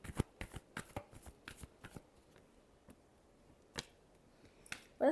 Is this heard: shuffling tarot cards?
yes